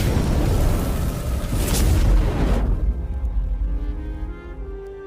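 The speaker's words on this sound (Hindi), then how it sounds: "ऐसे ही चंद पलों में देखते देखते एक भयानक धमाका होता है" A loud, deep blast roars out, a broad rumbling burst that swells then slowly decays into a fading low rumble.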